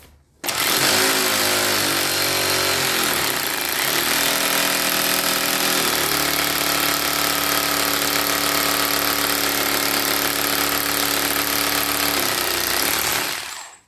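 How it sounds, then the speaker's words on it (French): A hammer drill boring into a wall during drywall and electrical installation, loud and close, with a continuous harsh pounding rattle for about twelve seconds that shifts in pitch a couple of times before stopping abruptly. "on peut commencer à percer en mode marteau"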